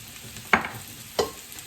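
Mushrooms seasoned with salt and pepper sauté in a pan for a mushroom and parmesan risotto, with two sharp, close stirring scrapes over a faint, steady sizzle.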